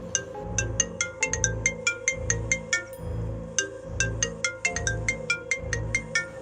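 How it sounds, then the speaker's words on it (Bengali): A phone ringtone goes off in a Bengali ghost story, playing a repeating bright melodic tune over a steady, pulsing low backing beat. It rings continuously and clearly for several seconds, with no voices. "হঠাৎ অঞ্জনের ফোন বেজে উঠল"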